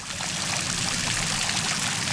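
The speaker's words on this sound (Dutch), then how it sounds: "waterval, een fontein" Water splashes and trickles in a fountain, a soft, steady rushing heard close by for about two seconds with no voices.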